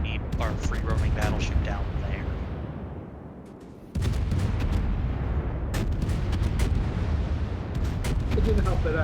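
Battleship artillery in a video game fires in heavy, booming volleys, loud bursts repeating over a rumbling battle din, with a player talking throughout.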